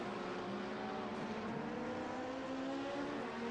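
Sim racing cars, including a Porsche, circle the Silverstone circuit in an endurance event, their steady engine drone with tonal whine sustained throughout, fairly loud and continuous with no one talking.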